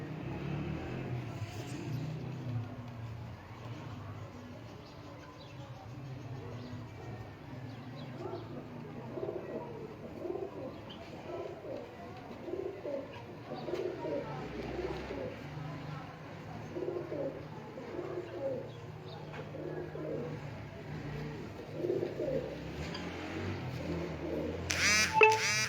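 Sialkoti rooftop pigeons cooing on a roof in Sheikhupura, soft low repeated coos rising and falling in a steady rhythm, with faint traffic and a distant voice in the background.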